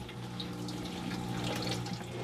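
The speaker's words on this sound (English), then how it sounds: "eventually you'll see water start coming out the hot side" Water runs steadily from the hot side of a tap while a tankless water heater is flushed with its gas shut off, giving a continuous close rushing flow with no talk.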